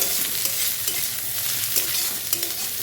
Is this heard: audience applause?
no